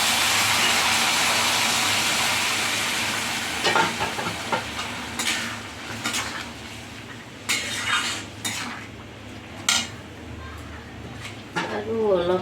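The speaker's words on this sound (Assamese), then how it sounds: "গৰম পানী দিছোঁ।" Hot water hits a pan of frying kidney beans and spices, a loud steaming hiss that fades into sizzling, followed by clinks and scrapes of a spoon against the pot while a voice speaks.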